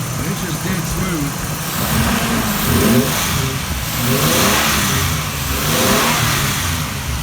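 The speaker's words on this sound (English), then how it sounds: "I'm very impressed with how smooth this V6 still is" A 1985 Nissan 300ZX V6 engine runs close by, smooth and steady with gentle swells of revving over idle, and someone talks over it.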